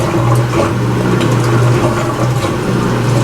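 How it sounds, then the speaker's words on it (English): A GE washer's drain pump runs and drains water: a steady, loud, close hum with rushing water that continues unbroken throughout, with no talking. "And as you can hear, the pump is working."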